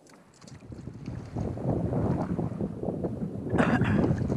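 Wind gusting over the water during kayak fishing at Copano Causeway near Rockport, Texas. A low, rumbling buffeting builds and grows louder, with lapping and splashing mixed in, close to the microphone, and nobody speaks.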